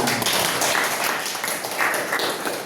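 Clapping from an audience in a classroom or community session, a dense, steady patter of many hands heard close and continuing throughout.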